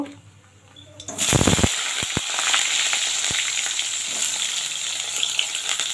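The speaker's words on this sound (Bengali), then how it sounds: "এবার বেগুনটা ভেজে নেব।" Sliced eggplant drops into hot oil in a home kitchen, bursting into a loud, steady sizzle and crackle after a few sharp clatters, the frying continuing close and unbroken.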